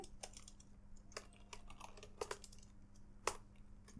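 HTML code typed on a computer keyboard, heard as quiet irregular key clicks in short bursts with brief pauses and one louder keystroke near the end, close and alone over faint background hum.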